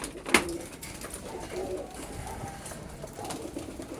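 Breeder hen pigeons in a loft coo softly and steadily at close range, with one sharp knock early on.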